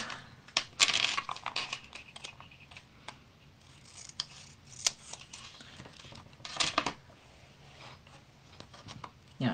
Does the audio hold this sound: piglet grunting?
no